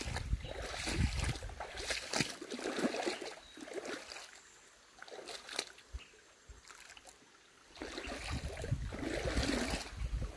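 A slow, shallow stream runs through a level area with sandy, silty banks, giving a steady broadband wash of flowing water with brief louder bursts and a quieter dip in the middle.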